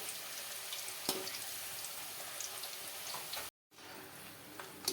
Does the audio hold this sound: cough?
no